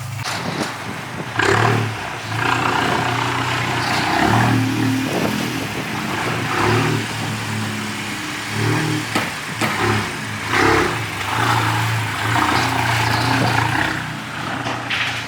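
A Volkswagen MK8 GTI with a Unitronic tune runs on a dyno, its engine droning and rising in repeated pulls, with shifts and surges across the whole stretch, loud and close without talk.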